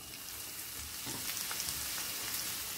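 Onion dropped into a splash of hot oil, sizzling steadily with a bright crackle that swells slightly as it settles, close and continuous with no talking.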